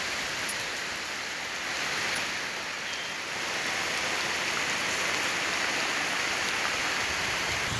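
Heavy rain pours down with strong wind, a dense and steady outdoor hiss that stays loud and even throughout, with no voices.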